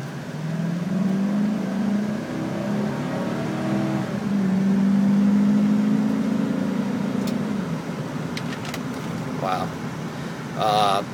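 A 2006 GMC Sierra SLT pickup pulls away from a stop, its engine rising in pitch through the gears as it accelerates, heard from inside the cab with a person talking over it.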